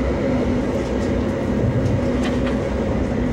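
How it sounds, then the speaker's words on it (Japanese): A 485 series train passes on the elevated Ueno-Tokyo Line, a steady loud rumble of wheels and rail noise heard from aboard or close by, continuous throughout with faint higher squeals. "上野東京ライン485系の花が通過をしております。"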